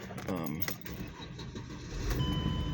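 A 2007 Mercedes-Benz E350 engine starting after a fuel pump replacement, a brief crank catching into a low idle, heard fairly faintly with a voice speaking over it.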